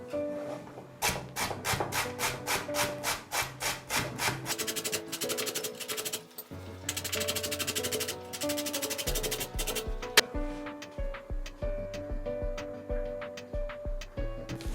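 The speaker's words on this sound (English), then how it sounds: "Grate green zucchinis." Green zucchinis are rubbed against a grater in fast, regular rasping strokes, close and distinct, with a short pause partway through before the strokes resume at a slightly different pitch.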